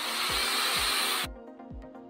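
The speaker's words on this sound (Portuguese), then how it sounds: "Eu liguei essa furadeira para teste." An electric drill runs on power from a motorhome's inverter-based electrical system, giving a loud, steady whirring hum for over a second before it cuts off abruptly, with a low rhythmic thumping continuing beneath.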